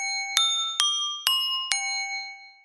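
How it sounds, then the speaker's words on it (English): Four bright chiming jingle bells in a Mickey Mouse Clubhouse sleigh-race video game, struck one after another at an even pace, each ringing tone hanging over a steady sustained musical note. "To race the sleigh, click these jingle bells in the order they light up,"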